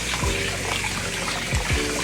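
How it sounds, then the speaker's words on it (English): Kitchen tap water runs steadily into a pot of rice to rinse it, a close, even hiss of flowing water with no talk. "run some water in there. And I'm gonna give the rice a couple of rinses."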